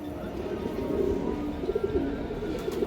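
Old-breed racing pigeons at a loft farm give low cooing calls, a few rising phrases near the middle amid a dense, steady background murmur.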